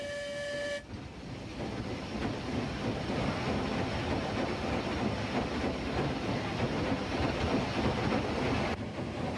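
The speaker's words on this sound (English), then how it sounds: "Moving slowly, the engine negotiates several crossovers as it departs the yard and enters the main line" A Union Pacific Challenger steam locomotive rolls slowly over crossovers leaving a yard, its steady heavy rumble and clank lasting throughout, opened by a brief whistle tone.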